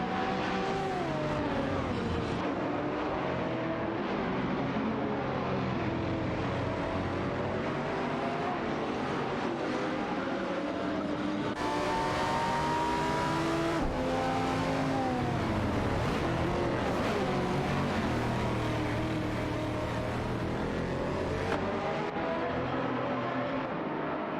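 Race cars in a video game, including a Lamborghini Gallardo GT3 and an Aston Martin DBS, with engines whining and rising in pitch as they accelerate, a continuous layered roar of several cars.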